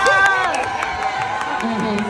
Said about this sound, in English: So clap it up one more time for the greatest team to ever do it